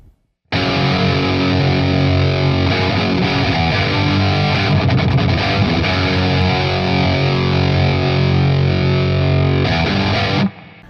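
Electric guitar runs through a Chinese Friedman Brown Eye high-gain pedal into a Twin amp, giving a thick, heavily distorted sustained chord and riffing that starts abruptly, stays loud and dense for about ten seconds, then cuts off.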